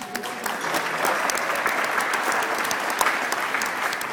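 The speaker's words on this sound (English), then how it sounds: "Another round of applause for our groomsmen as well as our best man, Kyle, Jeremy, and Parker" Wedding guests applaud steadily, a dense, continuous wash of clapping at close range that holds at even loudness throughout, with no talk over it.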